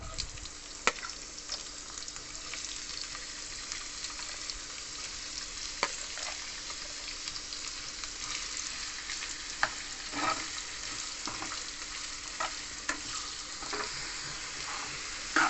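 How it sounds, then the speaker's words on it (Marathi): Chopped onion frying in oil in a pan while being stirred: a steady, moderate sizzle throughout with irregular scraping and clinking of the spoon against the pan, with no talking. "कांदा आपण तेलामध्ये चांगला परतवून घेऊ."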